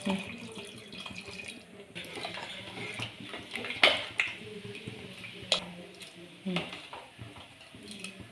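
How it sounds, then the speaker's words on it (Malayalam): Hot water splashes into a cooking pot of elephant-foot-yam stalk and lentil curry, with trickling water, stirring and light utensil clinks, under faint background voices. "ചൂടുവെള്ളം ഒഴിച്ച് കൊടുക്കും"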